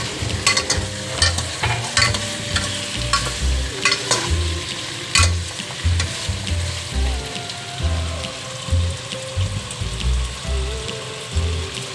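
Cow leg meat and cow skin being stirred in a pot for efo riro, a steady run of scraping, clattering spoon strokes over a low sizzle, close and fairly loud with no talk.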